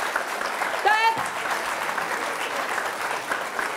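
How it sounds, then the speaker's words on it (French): A television studio audience applauds continuously, a dense wash of claps under a brief rising vocal whoop early on, and the clapping holds steady throughout. "Je voudrais quand même qu'on applaudisse notre invité mystère qui se laisse faire."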